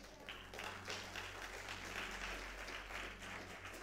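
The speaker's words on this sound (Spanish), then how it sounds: "Un fuerte aplauso al Señor." A church congregation applauds together in a sustained, dense wash of clapping that holds steady and fairly loud for several seconds without pause.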